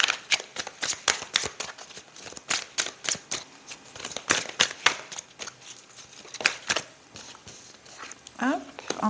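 Tarot cards being shuffled and handled at close range, a steady run of quick papery riffles and slaps that lasts throughout, with a voice briefly heard near the end.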